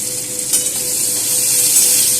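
Chopped onion hits hot oil in a frying pan for a snakehead fish tamarind curry and sets off a loud, continuous crackling sizzle. It swells slightly after the first moment and carries on close by with no voices.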